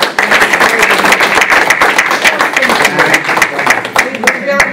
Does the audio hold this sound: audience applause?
yes